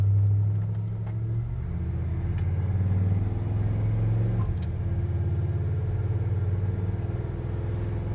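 A 1969 Chevrolet C10 pickup truck engine drones steadily from inside the cab, its pitch climbing and dropping as it accelerates through gear changes, loud and continuous.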